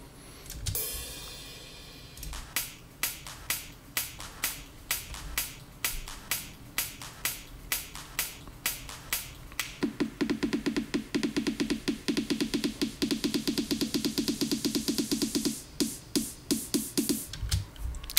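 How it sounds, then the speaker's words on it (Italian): Crisp electronic percussion plays a steady looping pattern of sharp clicks and snaps, growing denser and busier halfway through with a quick repeating hi-hat-like rhythm. "andiamo a sentire come suonano le percussioni insieme"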